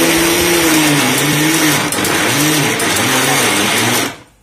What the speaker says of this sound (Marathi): बंद चालू बंद चालू मिक्सरमध्येच फिरवायचं आहे जास्त पण बारीक होऊ द्यायचं नाही फक्त गहू हा फुटला पाहिजे